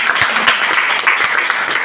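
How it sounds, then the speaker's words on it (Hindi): Audience members at a motivational program in a DXN office clap hard in a brief, loud burst. Many hands patter together close by with no pause. "आप सब ले जोरदार ताली।"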